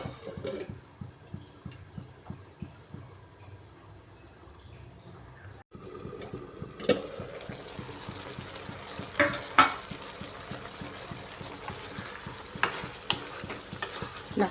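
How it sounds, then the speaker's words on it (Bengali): Masala frying and being stirred in a pan for a squash dish, a steady low sizzle under repeated scraping strokes of the spoon, growing a little louder and busier after a brief pause midway. "তারপর ভালো করে কষিয়ে নেব এটা।"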